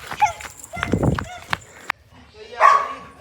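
A dog barks sharply a few times nearby amid scuffling movement, with a person speaking briefly.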